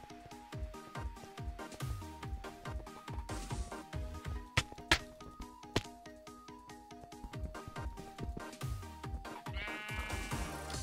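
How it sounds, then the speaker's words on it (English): Sheep bleating in a minigame, a dense run of repeated bleats coming in quick succession over a continuous music-like backdrop, loud and close throughout with occasional sharper accents. "Shut up, sheep."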